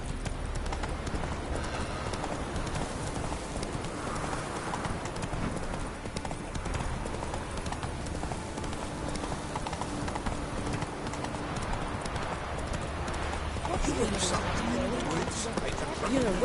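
Roach the horse galloping in Witcher 3, with steady clip-clopping hooves running under continuous game music and ambience, while a voice talks over parts of it.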